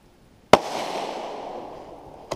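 A Tikka T1X rifle chambered in .17 HMR fires at a target outdoors; one sharp, loud crack is followed by a long fading echo, and a second fainter report sounds at the end.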